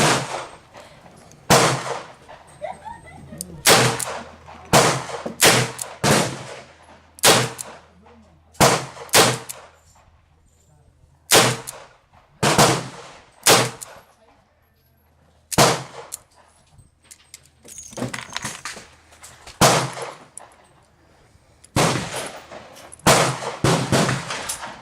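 A R.I.A M-206 revolver fires 158 grain flat nose rounds at a range, sharp loud reports spaced irregularly in bursts, with quiet gaps between the shots.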